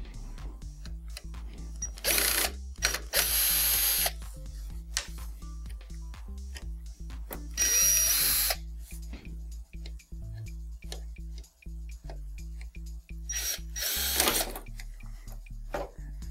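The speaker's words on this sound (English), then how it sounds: "You can go ahead and undo the four screws." A power screwdriver unscrews screws from the power supply of a Mitsubishi DLP television with a no-picture, no-power fault, three short whirring bursts spaced apart over a steady low hum and light clicks.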